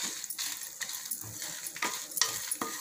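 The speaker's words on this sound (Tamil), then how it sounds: "இதை நம்ம நல்லா ஃப்ரை பண்ணிக்கலாம்." Coriander seeds, black pepper and dried chillies are dry-roasted together in a pan, giving soft scattered rattles and scraping stirs with faint crackle, fairly quiet and with no voices.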